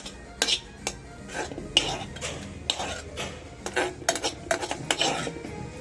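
A metal spoon repeatedly scrapes and clinks against a pan as tamarind is stirred into a green chilli and tomato chutney mixture, giving close, irregular bursts of clatter with no talking.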